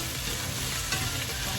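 Vegetables with carrots sautéing in a hot pan give a steady, close sizzle with faint stirring scrapes, continuous and even throughout with no talking.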